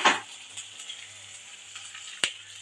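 Urad dal, onion, green chilies and broken dried red chilies sauté in hot oil with a faint, steady sizzle. A louder spatter opens it, and a single sharp tick of a stirring spoon follows later.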